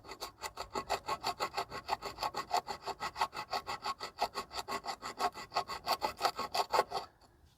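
A whetstone scrubs back and forth against a corroded BMW alloy wheel rim barrel, making steady rhythmic rasping strokes, about four per second, close and fairly loud, continuing alone for about seven seconds before stopping.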